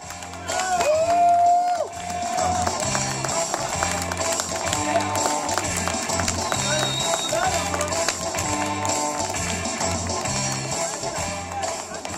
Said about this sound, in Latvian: Aplausī!